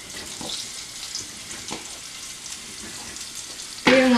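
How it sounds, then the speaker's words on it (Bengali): Potatoes fry in a pan for egg curry, giving a steady soft sizzle throughout, with a sharp louder burst near the end as something hits the hot oil. "আবারও আলুটা আমি লাল লাল করে একটু ভেজে নেব।"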